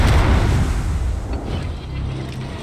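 A battleship's main guns fire HE shells in the naval video game World of Warships, a deep booming blast that rolls off into a low rumbling tail.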